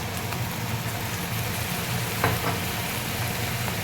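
Vegetable Manchurian frying in a wide pan, restaurant-style dry version, giving a steady dense sizzle with a low bubbling rumble underneath, plus a brief stirring scrape near the middle; no voices.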